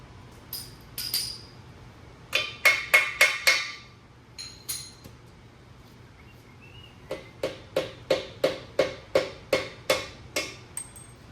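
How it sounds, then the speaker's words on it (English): Sharp metallic hammer blows on the rear axle of a 1934 Ford 5 Window ring out in two bursts of rapid, evenly spaced strikes, loud and close, separated by a quiet pause. "I'm just hitting it with a hammer"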